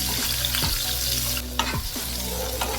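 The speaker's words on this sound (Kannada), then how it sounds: "ಈರುಳ್ಳಿ ಟೊಮೊಟೊ ಬೆಳ್ಳುಳ್ಳಿ ಶುಂಠಿ ಎಲ್ಲನೂ ಹಾಕ್ಕೊಂಡು ಸ್ವಲ್ಪ ಚೆನ್ನಾಗಿ ಫ್ರೈ ಮಾಡ್ಕೋಬೇಕು" Onion, tomato, garlic and ginger sizzle steadily in oil in a pan, a loud continuous fry broken by a few scraping stirs of a spoon, with no voices.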